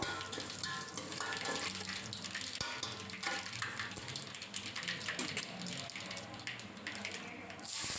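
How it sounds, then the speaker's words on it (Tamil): Curry leaves fry in hot oil for a fish curry, making a dense, continuous crackling sizzle with scattered pops that holds steady throughout at moderate volume. "கருவேப்பிலையும் நல்லா பொரிஞ்சு வரணும் நல்லா வதக்கி விடணும்"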